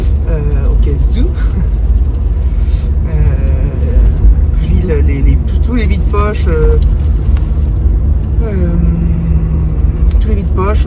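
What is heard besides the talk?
car driving, interior road noise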